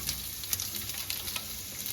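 Onions and peppers sizzling in hot oil in a pan, a close, steady crackling hiss with small bursts as they are stirred.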